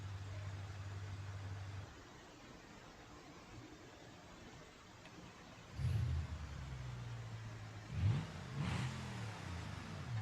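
A 4.5 litre V8 car engine in BeamNG.drive idles low and steady, then revs up in two distinct bursts, faint and alone with no talk.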